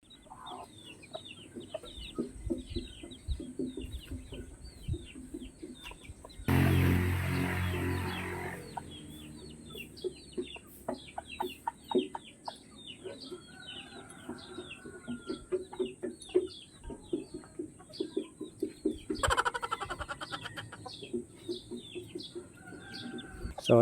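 A mother hen clucks steadily among three newly hatched chicks whose high peeps run throughout, with a loud burst of handling noise partway through and another near the end.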